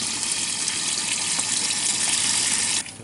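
Water gushes steadily from a tap into the tub of a new washing machine with a spin dryer inside a fifth-wheel trailer, a loud, continuous broadband rush that cuts off abruptly near the end.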